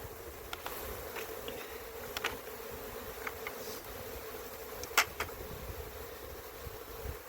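A honeybee swarm buzzes steadily around a hive after its queen has been caught. The drone is continuous and moderately close, with a few sharper ticks of movement and no voices.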